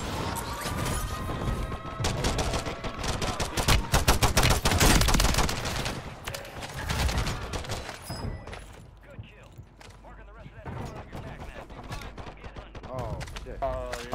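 Dense bursts of automatic gunfire and crashing impacts in a Call of Duty match on Rebirth Island, loud and rapid for the first several seconds, then thinning to scattered shots with a voice speaking over them.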